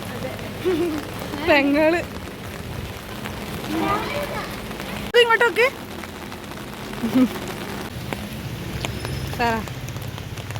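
Steady hiss of heavy rain pouring down throughout, while people talk intermittently nearby over the downpour.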